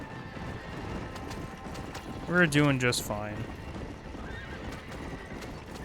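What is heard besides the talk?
skeletal horses neighing and trotting in Red Dead Redemption video game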